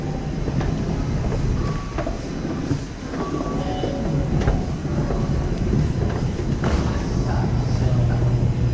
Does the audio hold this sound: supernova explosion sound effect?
no